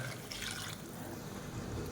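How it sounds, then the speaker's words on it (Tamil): Water is poured into a cooking pan of sautéed tomato and onion for a tomato kadappa side dish, giving a steady, fairly faint rushing trickle that runs continuously without pause. "இப்போ நம்ம தேவையான அளவுக்கு தண்ணி சேர்த்துக்கலாம்."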